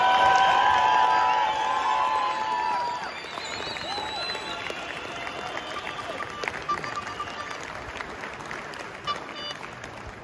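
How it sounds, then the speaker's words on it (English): Crowd of protesting farmers outside the Senedd in Cardiff Bay claps and cheers, with whistles and shouts rising over the applause early on before it thins into scattered clapping and crowd noise. "Give yourselves all a big clap on that."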